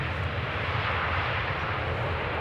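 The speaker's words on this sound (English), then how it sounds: "KLM 737." A KLM Boeing 737 arriving at Amsterdam Schiphol Airport, its engines a loud, continuous broadband roar with deep rumble, steady and close overhead throughout.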